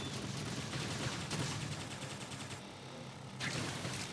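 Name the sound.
gunfire in video game Xenoblade Chronicles X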